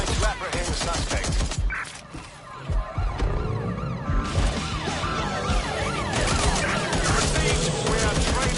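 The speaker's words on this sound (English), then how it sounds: "Gunfire!" Gunfire in the Watch Dogs video game: dense, loud bursts of shots and crashing impacts continue almost without pause, with a brief lull early on.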